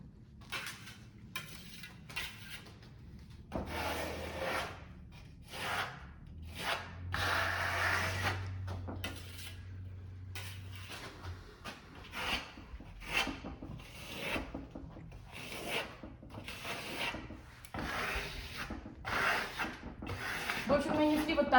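A plastic float spreads decorative silk plaster across a wall in repeated short scraping and rubbing strokes. The strokes are close and fairly quiet, with a voice talking intermittently between them.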